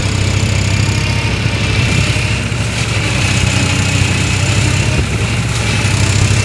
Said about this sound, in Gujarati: કાલે જે નવું ટ્રેક્ટર લીધું એને આજે આપણે મોબાઈલ શેડરમાં ચાલુ કર્યું છે.